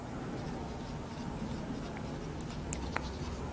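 Pen writing out the narration line of an accounting journal entry for a dishonoured bill of exchange, a soft continuous scratching close by over steady low room hum, with no talking.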